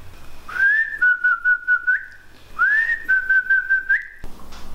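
A person whistles a tune for their pet Ben: two clear melodic phrases, each rising into a run of short, evenly spaced notes and ending with an upward flick. The whistling is close and fairly loud, and no one speaks.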